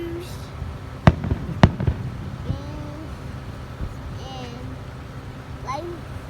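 Fireworks burst at night in a few sharp cracks, two close together early on and a fainter one later, somewhat distant over a low rumbling background with voices talking.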